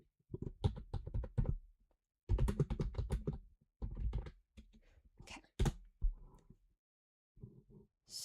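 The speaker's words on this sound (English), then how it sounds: "I'm sorry for the clicking." Bursts of rapid computer keyboard clicking, loud and close, come in several clusters separated by brief pauses. The taps are crisp and uneven, with no talking over them.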